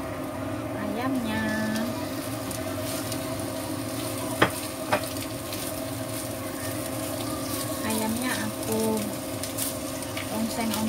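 Chicken stir-fried in a pan for a semur ayam dish, a continuous sizzle with scraping stirs and a couple of sharp clinks of the utensil, under a steady background hum.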